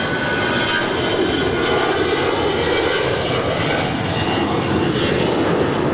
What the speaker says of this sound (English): That is Alaska Airlines 113 departing to Seattle on an A320